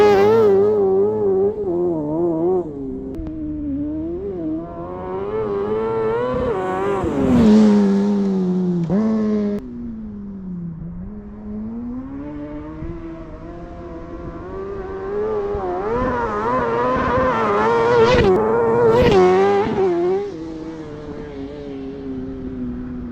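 A CrossKart with a new engine is test driven, its motor revving up and easing off repeatedly, pitch climbing and falling as it accelerates and slows. It stays loud and close throughout, with no voices.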